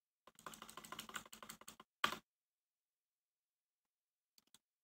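Quick bursts of close computer keyboard typing and key clicks while deleting Pascal code, a rapid flurry followed by a single short clatter, then near silence with a couple of faint taps.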